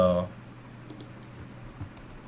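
A few faint, quick computer mouse clicks and light keyboard taps while a computer is used to work in Selenium IDE. They are soft, spaced out and sit over quiet room tone.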